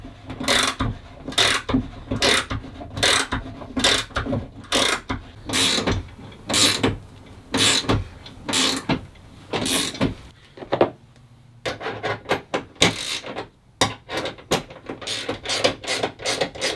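A hand rivet nut tool ratchets as a rivet nut (rib nut) is tightened: a steady series of loud, rhythmic mechanical clicks and creaks, pausing briefly before a faster run of strokes, close up with no speech.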